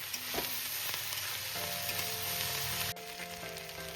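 Mixed vegetables with chunky onion and onion stalks frying in oil in a pan: a steady, close, dense sizzle holds throughout, with a few faint clinks and a brief dip near the end.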